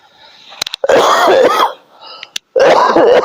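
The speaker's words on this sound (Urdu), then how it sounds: "میرے گلے کی کھانسی یہ پیغام دے رہی ہے" A man coughs and clears his throat in several harsh, close, loud bursts separated by short pauses, with a wheezy rasp.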